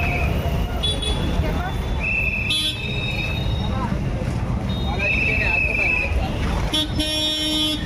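Busy city road traffic in Hyderabad at night, a steady roar of engines with car horns honking again and again, some long and some short, while voices talk nearby.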